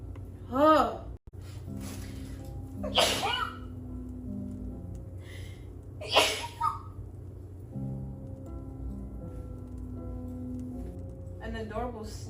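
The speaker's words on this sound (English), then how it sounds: "An adorable sneeze." A woman sneezes in a short series while cooking, with several sharp bursts spaced a few seconds apart over steady background music.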